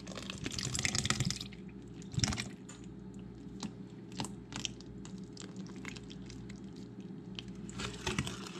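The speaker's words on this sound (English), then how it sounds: "Now I'm going to stir in my milk" Milk stirred into strained, mashed pumpkin for pie filling, quiet wet squishing and sloshing from a spoon moving through the mixture, with a few soft clinks against the bowl.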